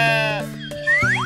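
A toy sheep gives a wavering electronic bleat, one long loud pitched cry that bends upward and warbles, close by with no speech over it.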